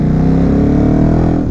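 A KTM RC8R V-twin motorcycle at low revs gives a loud, steady throbbing drone up close, holding an even pitch with no voices over it.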